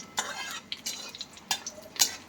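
Mustard seeds and cumin dropped into hot oil for upma in a home kitchen, giving a few sharp crackles and spits that come in separate bursts over a quiet background.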